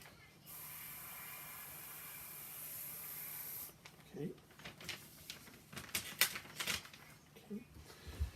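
Bursts of aerosol spray paint used for graffiti-style artwork, a steady hiss for about three seconds followed by shorter uneven spray pulses and handling clatter, fairly close.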